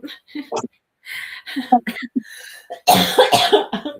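A person talks briefly, then gives a harsh burst of coughing that is louder than the speech.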